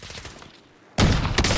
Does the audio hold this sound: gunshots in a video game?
yes